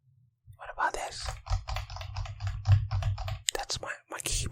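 Soft clicking bursts of typing on a computer keyboard, close and quiet, with faint whispering mixed among the keystrokes.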